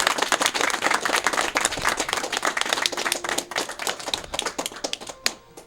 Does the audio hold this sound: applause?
yes